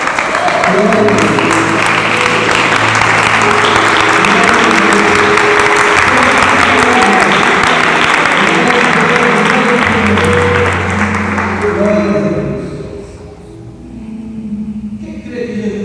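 A large church congregation claps loudly and steadily with voices and music underneath, then the applause fades out near the end.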